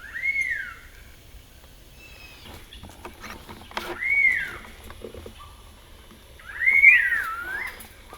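A collared gray-crowned crocias, an endemic forest bird of Bidoup, gives three clear whistled calls, each a rising-then-falling note, spaced a few seconds apart over quiet background.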